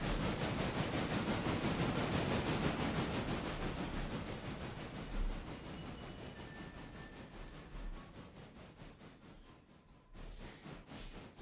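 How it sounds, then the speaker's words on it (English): A passenger train rolls along the railroad near Nantahala, a loud, steady broadband rumble with faint clickety-clack that gradually eases and thins over time, with brief higher squeals near the end. "Passenger train coming up on Nantahala."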